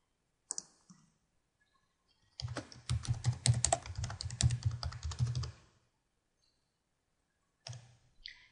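Someone types a milestone name on a computer keyboard, a few isolated clicks, then a dense burst of close, crisp keystrokes lasting about three seconds, then quiet and a final short tap.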